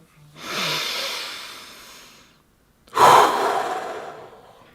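Two deep breaths up close during a guided breathing exercise: a long airy inhale fading out, a brief pause, then a stronger, louder exhale that trails off, with no speech.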